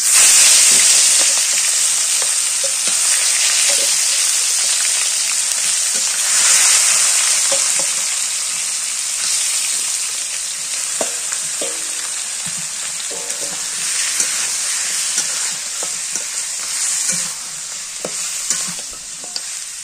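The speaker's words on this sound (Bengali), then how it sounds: "তেলটা গরম হয়ে গেছে, এবার মাংসটা দিয়ে দিই।" Mutton pieces fry in hot oil, giving a loud, steady sizzle and hiss close by. It starts strongest and settles into a continuous crackling fry, with occasional stirring clatter and no talking.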